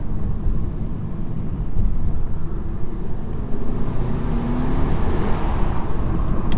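A 2018 VW Passat's engine while driving, a loud, steady, muffled low rumble with road noise and no talk, rising slightly in pitch partway through.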